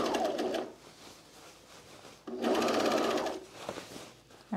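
A sewing machine stitches pants with a slightly long stitch length, running in two bursts of steady whirring with a quiet pause between them, close and clear.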